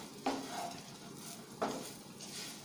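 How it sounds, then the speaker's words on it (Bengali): A spoon stirs ginger powder into rice in a pan while making Kashmiri pulao. There are two distinct scraping clinks against the pan, about a second and a half apart, with quiet shuffling in between. "এটাকে মিশিয়ে দেবো চালের সাথে ভালোভাবে"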